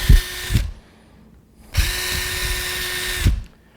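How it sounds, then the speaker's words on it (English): A power drill whirs while drilling holes in birch bark for a basket, in two bursts, a short spin followed by a pause, then a longer steady run, each starting and stopping with clunks. "So it's all drilled all the way around."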